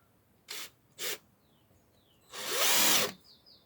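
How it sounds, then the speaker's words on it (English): A power drill whirs in two short bursts, then runs for a longer stretch, pre-drilling screw holes into a brace, close and clear in a quiet room. "up to the top of this brace that I made. And pre-drilling"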